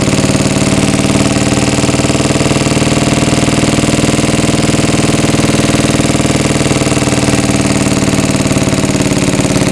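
A 74-year-old Briggs and Stratton engine runs at wide-open throttle under load on a dyno, a loud, steady, continuous drone with a dense rapid firing texture that holds level throughout, with no voices.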